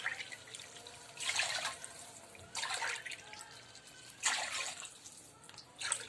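Water poured from a cup into a cooking pot for vegetable pulao, several separate splashing pours of a second or so each, close and moderately loud with quiet gaps between them.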